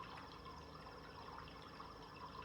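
Emergency siren from the video game Damage Incorporated, a steady wailing tone that fills the whole stretch at a moderate level, sitting under constant background game noise with no pauses.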